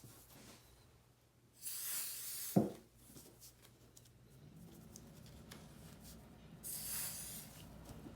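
Temporary adhesive sprays onto embroidery stabilizer in two short hissing bursts several seconds apart, close and fairly soft, with a brief handling knock between them.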